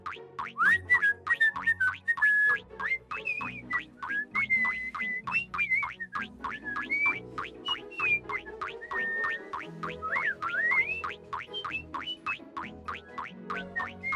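A little cartoon pig whistles cheerfully on the way to market, a bright bouncy tune of short warbling notes over a light rhythmic backing with plucky boing-like accents, steady throughout and no speech.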